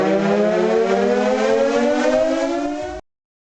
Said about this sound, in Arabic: على أقصى تقدير، هذه أكبر سرينة في العالم.